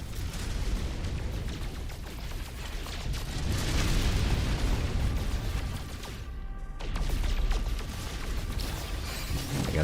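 Asteroids bursting apart in the space game No Man's Sky, a dense run of rumbling booms and crackling blasts that swell and fade over continuous mechanical noise, with no talk.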